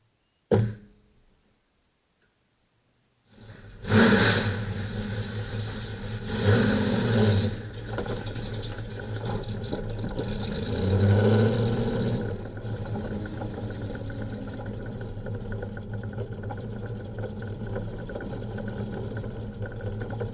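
A Cobra car with an EFI engine starts up and revs on its first test drive, a loud close engine swelling in a few throttle blips before settling into a steady run, with no talk.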